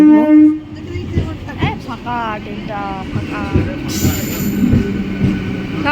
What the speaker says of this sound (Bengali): দেখো ট্রেন এসে গেছে আমরা ট্রেনে